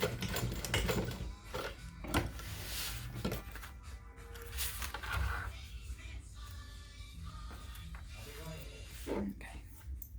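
Sewing machine basting fabric flat, the stitching coming in short mechanical bursts with pauses between them while a person talks over the work.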